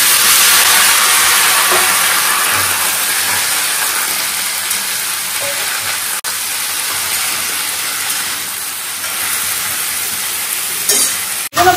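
Lentil dumplings fry in oil in a wok, giving a loud, continuous close sizzle with occasional stirring scrapes and a few clinks toward the end.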